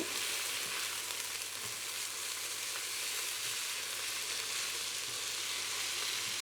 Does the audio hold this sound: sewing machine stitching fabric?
no